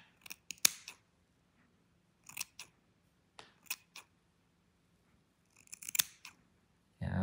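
Small scissors snip at a German Shepherd's paw hair in short crisp clusters of cuts separated by quiet pauses, close to the ear.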